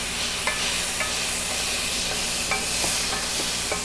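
Peppers sizzle and fry in a pan with a steady, loud hiss, and faint scraping stirs mark the sound at regular intervals.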